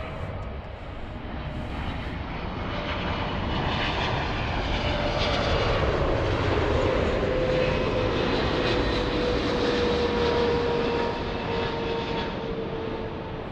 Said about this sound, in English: Very, very, very smooth touchdown there by Turkish.